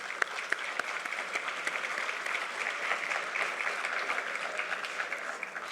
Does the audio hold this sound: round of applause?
yes